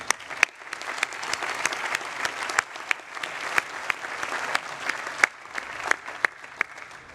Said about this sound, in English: I think we owe them a round of applause for that commitment.